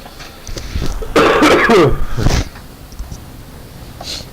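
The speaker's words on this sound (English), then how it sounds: "I cough and have to clear my throat like all the time" A man coughs and clears his throat in a short close burst, a couple of harsh rasping coughs followed by throat clearing, then quiet.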